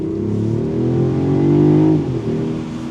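A 2025 Mercedes-Benz CLE 450 Cabriolet inline-six engine revs up hard and loud in sport mode, its pitch climbing steadily before easing off briefly near the end.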